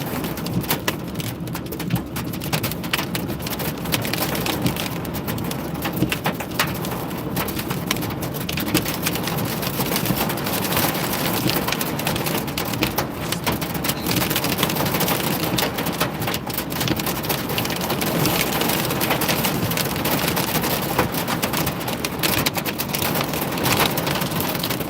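Hail, with stones up to about an inch across, comes down with heavy rain in a dense, continuous drumming that stays loud and even from start to finish.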